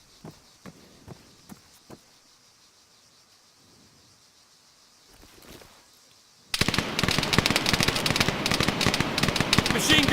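Sustained, loud automatic machine gun fire bursts in from mid-clip in the Arma 3 4vs4 multiplayer match, preceded by a few scattered distant single shots, footsteps and faint movement noises.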